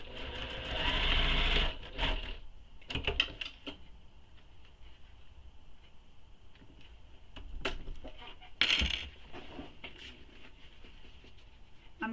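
A sewing machine stitches a short edge of a handbag in a quiet room, with a brief burst of rapid stitching, light handling and clicks, and faint background sounds.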